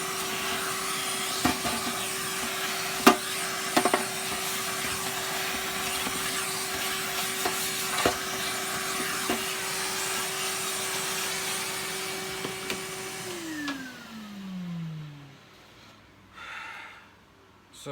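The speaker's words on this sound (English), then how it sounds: "just a quick vacuum." A Hoover cylinder vacuum cleaner runs with a loud, steady whine and airflow, occasional knocks as the nozzle moves, then the motor winds down near the end.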